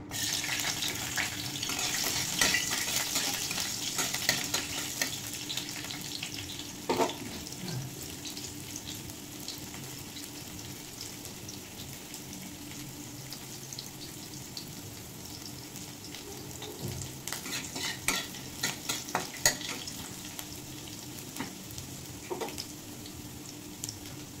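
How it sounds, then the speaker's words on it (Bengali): Garlic pieces frying in hot oil as the tempering for a village-style greens dish, heard as a steady, moderately quiet sizzle with occasional scrapes and clicks from the pan. "ফোড়ন দিয়ে দেবো রসুনের টুকরো"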